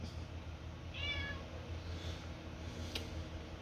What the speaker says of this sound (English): Sassy cat.